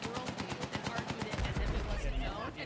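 Automatic gunfire in the video game Battlefield 6 rattles in a fast, steady burst of shots with a low boom near the end, heard at moderate level through a stream mix.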